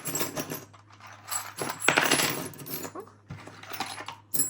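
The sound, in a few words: pile of old metal keys poured out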